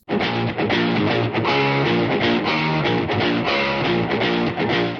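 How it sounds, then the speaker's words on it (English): Electric guitar run through an octave pedal, a thick, saturated tone with a low octave doubled underneath, playing a steady rhythmic chordal pattern with regular pulses, loud and unbroken. "I ran the guitar back out of my system through an octave pedal"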